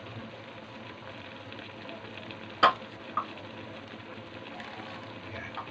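Seafood in oyster sauce with hot chili sizzles quietly in a pan as onion goes in; a soft, even frying hiss runs throughout, broken by two sharp utensil clinks close together partway through.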